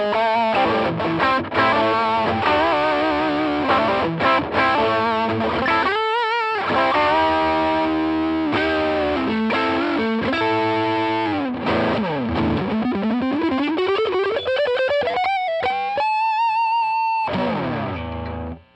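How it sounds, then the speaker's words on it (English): Electric guitar played through a boost-and-overdrive distortion pedal with extra modification, giving thick, smooth, sustained distorted riffs and chords that slide into held high notes, loud and continuous without talk. "it's basically a boost with an overdrive, but with a little extra modification, so you get a little bit more distortion, a little bit smoother sustain"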